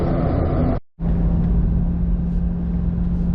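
Ron Fellows C8 Corvette held in 4th gear down a racetrack front stretch, a loud steady engine drone and road rumble, broken by a brief sharp cut near the start before the roar resumes.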